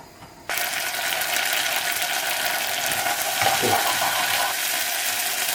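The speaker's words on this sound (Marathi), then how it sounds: "जिंजर गार्लिक पेस्ट आमी तेलान मातसो गो भाजया" Ginger garlic paste hits hot oil in a pan and bursts into a loud, sudden sizzle after a quiet moment, then keeps crackling steadily close by, with a brief stir midway.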